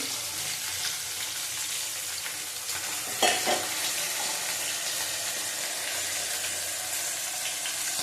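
Cumin powder and a splash of water sizzle in a frying pan for a rohu fish and potato curry, a close, steady frying hiss with one brief louder burst of spatter partway through, no voices.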